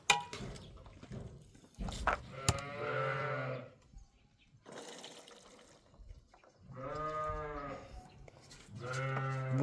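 Sheep bleat on a farm, with several long wavering calls, some loud and near and others quieter, separated by short pauses with little else around them.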